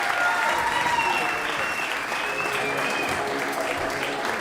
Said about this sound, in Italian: vi ringrazio, un applauso